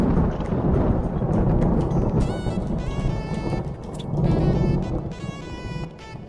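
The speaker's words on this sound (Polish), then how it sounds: "Burza się rozpoczęła" Steady rain and rumbling thunder roll on throughout a thunderstorm in modded Minecraft, with a few sharper synthetic tones rising briefly over the storm; no talking.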